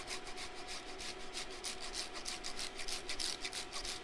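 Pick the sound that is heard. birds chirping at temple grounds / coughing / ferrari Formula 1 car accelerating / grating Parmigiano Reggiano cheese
grating Parmigiano Reggiano cheese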